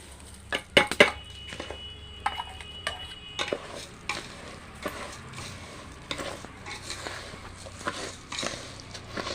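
Rice and lentils with peanuts and curry leaves being fried and stirred in a pan for dry khichuri: soft sizzling with scraping stirs and a few sharp utensil clinks against the pan, close and fairly quiet.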